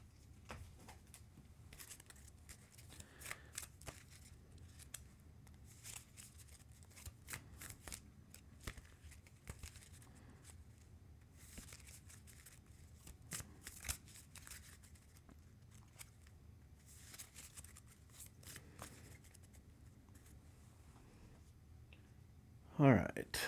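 Cards from the Earthborne Rangers board game shuffled by hand at a table, a long quiet run of soft riffling and patting bursts, close and faint, with a sharper clatter at the very end.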